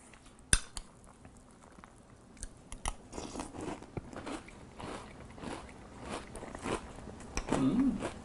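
Close crunching and chewing of Cheerios Oat Crunch Cinnamon cereal in milk, a series of irregular crisp bites and munches that grows busier toward the end, with faint spoon clinks.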